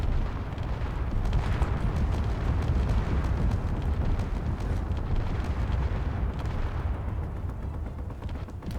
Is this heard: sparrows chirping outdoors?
no